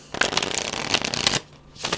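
Tarot cards riffled and shuffled close up in quick bursts, a brief pause, then a short final shuffle.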